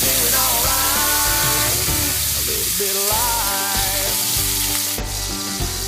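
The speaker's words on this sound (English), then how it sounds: "we're about to make the grease pop" Food sizzles and crackles steadily in a hot pan, a continuous frying hiss with a musical backing running underneath throughout.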